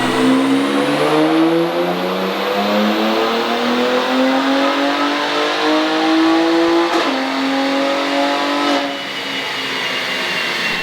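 A BMW X3 M engine revving hard on a dyno, a loud, rising drone that climbs steadily for several seconds, then drops sharply at a gear change and climbs again before easing off.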